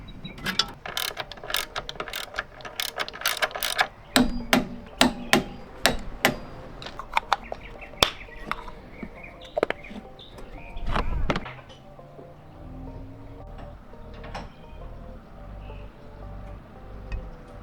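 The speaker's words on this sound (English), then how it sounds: "the cowls all snap back together." Plastic cowl pieces on a VW MK7 GTI snapping into place, a string of sharp, close clicks and snaps at irregular intervals with quieter handling noise between them.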